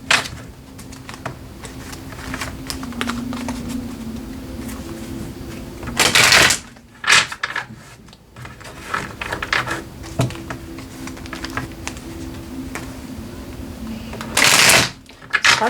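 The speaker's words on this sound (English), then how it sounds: "Sorry about all the shuffle." Tarot cards are shuffled close by, a continuous papery riffling and flicking broken by a couple of louder bursts, while a person talks softly in between.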